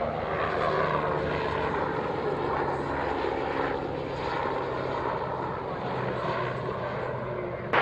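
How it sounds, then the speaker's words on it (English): A Belgian Air Force aircraft taking off for its display at an airshow, its engine roar loud and sustained throughout, with no talk over it. "Air Force 311, clear takeoff runway 27, clear display"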